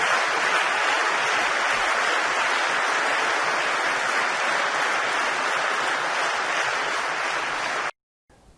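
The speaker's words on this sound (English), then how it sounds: "The clapping crowds" A large crowd claps and applauds steadily, a dense, even wash of hand claps held at full strength for about eight seconds before cutting off abruptly.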